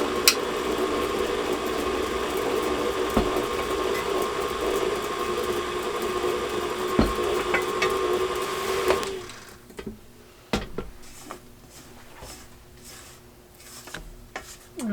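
An electric mixer whirs steadily through pumpkin bar batter for about nine seconds, a loud even motor drone, then cuts off, leaving quieter clatter and handling noises.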